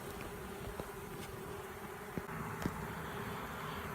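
Honeybee swarm being captured at dusk, a steady droning hum of many bees close by, fairly faint, with a few brief louder passes of individual bees flying near and no talking.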